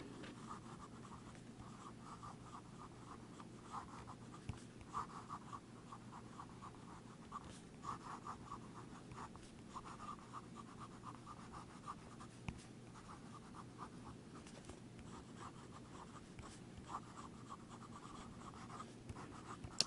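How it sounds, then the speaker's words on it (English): A broad 18K gold nib pen scratches ink across paper in a long, quiet stretch of writing, with soft intermittent strokes and small taps between letters, close and faint. "now for some more writing."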